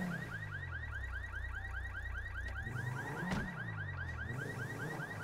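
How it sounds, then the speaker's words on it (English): A car alarm in GTA V, blaring a rapid repeating electronic warble pattern steadily and loudly, with no talk over it. "one problem is you set the alarm off like that."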